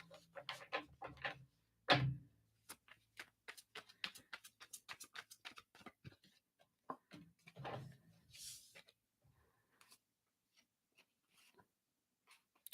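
Tarot cards being shuffled close up, a series of soft flicks, slaps and riffles in irregular bursts, loudest early on and thinning to sparse light taps, with no talk.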